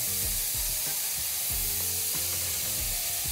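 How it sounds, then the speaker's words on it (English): Loud, steady sizzling of lamb kebab frying in a hot pan, a dense hiss with crackles and low bubbling pops throughout, close up. "I love the sizzling sound and it smells so nice in here."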